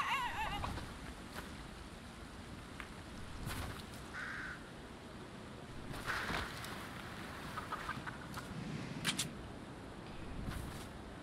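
Chickens in a video game cluck in scattered short bursts over a constant low game ambience, fairly faint and mid-distance.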